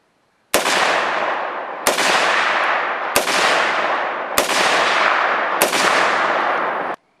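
Five loud rifle shots from a 16-inch barrel with no muzzle device, fired evenly about a second and a quarter apart, each a sharp crack with a long, booming tail that rolls into the next shot outdoors at night.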